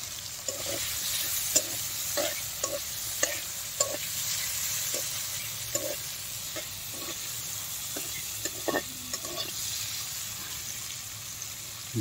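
Raw mango is sautéed and stirred in a pan for Bengali-style mango chutney: a steady sizzle carries irregular spoon scrapes and clacks against the pan, close and fairly quiet, with no talking.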